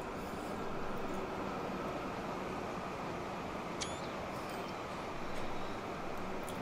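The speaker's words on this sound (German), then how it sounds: "jetzt fahren hier die Züge wunderbar" Trains running in the rail-transport simulation game Transport Fever: a steady, dense broadband rumble of moving rail traffic continues throughout at a moderate, even level, with one faint high chirp partway through.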